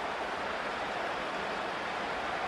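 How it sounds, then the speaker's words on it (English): Stadium crowd roar in Madden NFL 25 during a Bengals versus Patriots football game, a dense, steady wash of cheering noise that holds loud and unbroken throughout, with no talk over it. "The crowd cranking it up another notch before 3rd"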